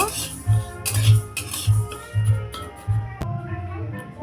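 Moong dal dry-roasting in a pan gives a steady series of scraping, clinking stirs of a utensil against the metal, roughly every half second, with a sharper clink near the end.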